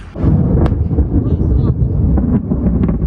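Loud, close thunder rumbling through a thunderstorm with light rain near a lakeside beach in Lempäälä, Finland, a dense low boom with crackling peaks filling the whole moment, no talk.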